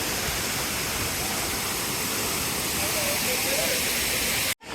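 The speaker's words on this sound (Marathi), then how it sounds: "मधीत जाम भारी वॉटरफॉल लागलेला आहे" A waterfall beside the Kedarnath trekking route roars as a steady, loud rush of water that fills the whole stretch, with a voice faintly present underneath before it cuts off abruptly.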